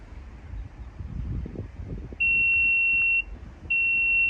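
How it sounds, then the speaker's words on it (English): A Renault Rafale's powered tailgate gives a steady electronic beep as its new opening position is stored. The tone is sustained and fairly loud, pauses briefly, then sounds again over faint mechanical rustling. "now that beep is to say that this is the new position for this tailgate to open"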